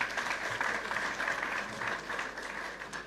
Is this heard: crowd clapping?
yes